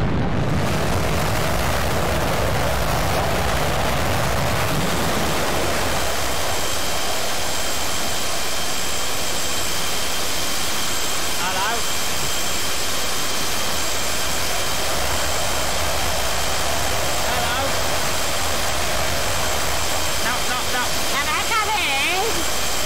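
An F-18 jet engine in a flight combat video game roars in a steady, loud, continuous drone with a sharp onset, sustained throughout with little change in level.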